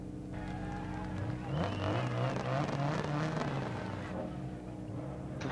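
A 1998 Honda Civic coupe rally car in DiRT Rally drones with a steady engine note that rises and falls through revs over a few seconds, heard at moderate level with a faint underlying hum.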